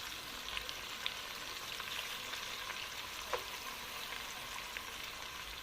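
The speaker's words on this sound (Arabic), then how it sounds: "هشوح البسله مع البصل كده وتفك وتاخد اللون بتاعها الحلو" Peas and onions sauté in a pot for a one-pot chicken kabsa, a soft continuous sizzle with scattered light crackles and an occasional faint clink, fairly close but quiet, with no talking.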